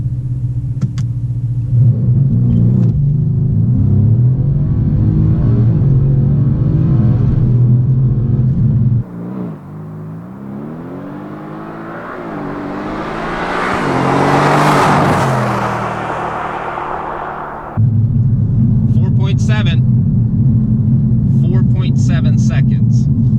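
A 503-horsepower Mercedes C63 AMG launches hard under launch control, its engine rumbling steadily at the start before a rising roar that swells and peaks, then drops back to a settled idle, with people talking over it.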